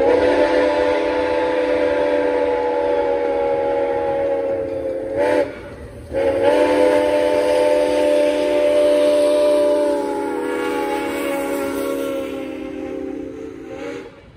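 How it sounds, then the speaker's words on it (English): SOO Line 1003 steam locomotive running through the Wisconsin countryside, its whistle blowing one long, loud, steady chord for most of the stretch, broken by a brief gap, then sounding again and fading at the end, with no voices. "This is SOO Line 1003, steaming in Wisconsin."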